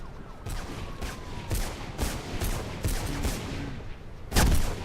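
Rapid bursts of gunfire from the video game Mirror's Edge, irregular volleys of shots throughout with a louder close burst near the end, over a busy game soundscape.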